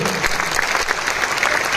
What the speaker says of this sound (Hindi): तो अपने लिए ही एक बार जोरदार तालियां बजा दीजिए आप लोग